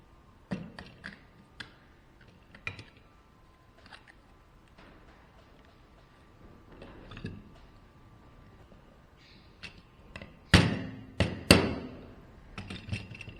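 Light metallic taps and clicks as a drilled-out blind rivet is worked loose with a rivet stem used as a punch, ending in several louder, sharp hammer knocks close by.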